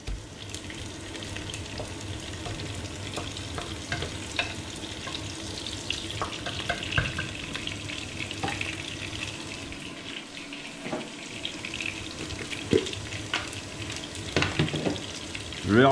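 Halved wood pigeons sizzle and fry steadily in a hot pan, a continuous close crackle with occasional sharper pops and faint utensil clinks throughout.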